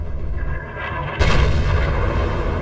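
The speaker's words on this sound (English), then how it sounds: "hard-hitting, fun sounds and powerful explosion effects" Explosion effect from the Wii shooter Sniper Elite, a heavy low booming rumble that swells suddenly partway through and holds as a dense roar, loud and close with no voices.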